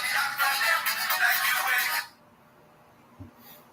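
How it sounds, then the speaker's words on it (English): A telephone rings for about two seconds, fairly loud and near, then stops, leaving a quiet room with a faint knock. "phone is ringing"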